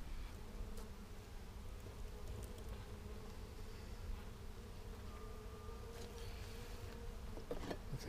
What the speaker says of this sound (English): It's a constant calm buzzing sound, isn't it?